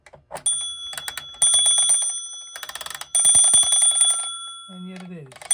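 An antique alarm clock from around 1898–1902 rings its bell in repeated bursts while being wound, the loud metallic ringing starting and stopping in clusters, close up, with a voice speaking briefly near the end.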